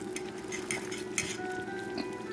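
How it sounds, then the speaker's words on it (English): Chicken balls being tossed in a pan of reducing Chablis dry white wine and onion sauce, giving a steady close sizzle and bubbling with soft stirring scrapes and a light clink of utensil against the pan. "Just keep on tossing them as this reduces"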